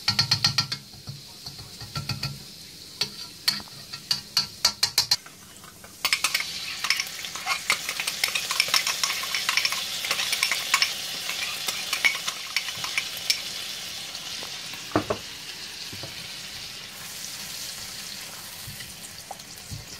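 Korean fried chicken (dakgangjeong) pieces frying in a pan while being stirred: a steady, close sizzle with repeated scraping and clattering of the stirring utensil, no talking.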